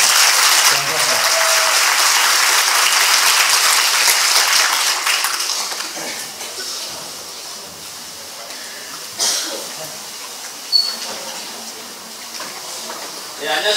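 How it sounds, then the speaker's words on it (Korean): A student audience at a university student council policy debate applauds the candidates, loud dense clapping that gradually thins out, with a few louder isolated claps and some low talk afterward. "우리 앞에 있는 후보자들을 위해서 많이 떨고 있는데 박수 한번 쳐주실까요?"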